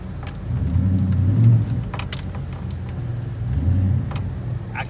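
A tow truck engine revs in low gear while shifting, with a steady low rumble that swells twice, mixed with light metallic jangling and clanks from the truck.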